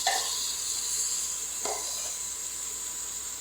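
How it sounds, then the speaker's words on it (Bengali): Potatoes frying in a pan, a steady faint sizzling hiss that holds through the moment with one brief clatter near the middle. "আলুটা আমি ভাজছি।"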